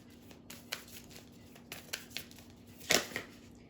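Moonology oracle cards are shuffled by hand, close and quiet. Scattered soft taps and riffles end in one louder flurry of card slaps.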